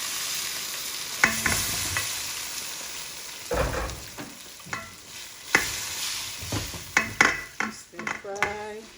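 Indomie noodles being stir-fried in a pan, with an ongoing sizzle under repeated scraping and clanking of a utensil that grows busier and more rhythmic toward the end.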